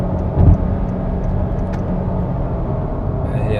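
Engine of a 2020 Honda Accord Hybrid roaring under hard acceleration, a steady low droning rumble that holds at an even level from start to finish, heard from inside the cabin with no talking.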